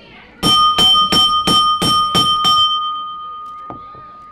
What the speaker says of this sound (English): referee Caleb calling for the bell